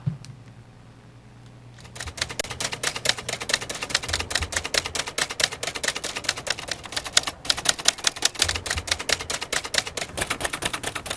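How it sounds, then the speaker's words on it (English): Rapid, steady clacking of typewriter keys, loud and close, starting after a brief quiet moment and continuing with occasional heavier strikes. "I just had the typewriter in front of me, desire to type"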